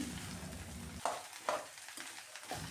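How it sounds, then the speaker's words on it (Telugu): Ridge gourd pieces fry and sizzle in hot oil in a pan while being stirred for a chana dal curry, with a close, steady sizzle broken by several sharp spatula scrapes. "బీరకాయలన్నిటిని వేసినాక ఆయిల్ మిక్స్ అయ్యేలాగా మొత్తం మిక్స్ చేసుకోవాలి"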